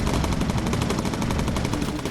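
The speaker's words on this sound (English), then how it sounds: "Stevenson, I need you on the gun." Sustained rapid machine-gun fire from a bomber's gun turret in the World War II aircrew game Bomber Crew, dense, loud and continuous for the whole stretch with no voices over it.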